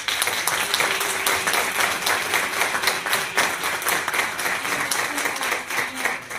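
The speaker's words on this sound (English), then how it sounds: "we just need to applaud this brother" An audience applauds steadily throughout, a dense crowd of many hands clapping at a fairly loud, even level.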